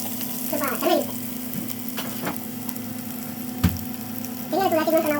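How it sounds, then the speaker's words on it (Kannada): Grated coconut frying in a pan for masala kadle bajil gives a low, steady sizzle with a few brief stirring clicks, while a voice talks at the start and end. "ಸ್ವಲ್ಪ ತೆಂಗಿನ ತುರಿ ಹಾಕಿದ ನೋಡಿ"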